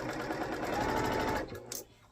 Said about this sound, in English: I don't want to break the thread in my sewing machine if I don't have to